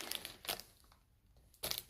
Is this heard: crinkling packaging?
yes